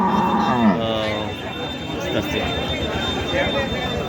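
Cattle at a busy livestock market, including Holstein Friesian, Sahiwal, Sindhi and local breeds: one close, loud moo rises early, then a crowded hum of the market with people talking.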